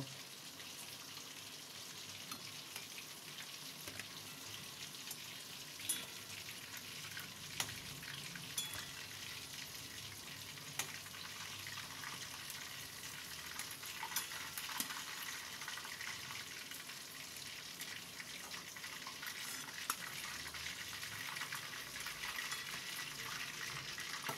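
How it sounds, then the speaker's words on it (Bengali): Chicken pieces shallow-frying on low heat in oil for chili chicken, a steady soft crackling sizzle that runs on without pause, faint and fairly even, with occasional small pops and no voices. "আমি সেই কারণে সিম করে করে ভাজছি।"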